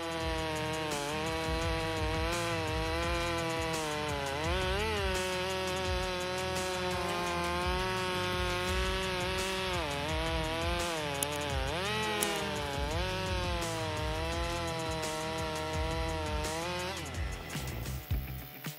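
A big Stihl MS 880 chainsaw with a 28-inch guide bar runs at high, steady revs while cutting hardwood in a forest, its droning engine pitch dipping and rising under load, loud and continuous.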